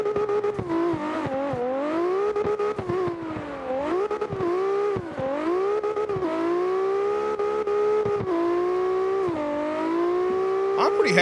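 A racing-game car engine drones loudly and continuously, its pitch rising and dipping through fourth gear along a banked section, then dropping on a downshift, with a brief higher whine near the end.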